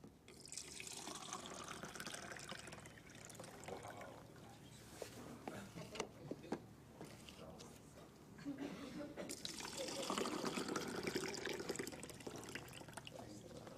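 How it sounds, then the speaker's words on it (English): Fruits and vegetables are rinsed in water, with steady running and splashing from a tap or basin that swells in the latter part, fairly quiet and close. "Now, I want to show you what happens if you clean your fruits and vegetables in that water."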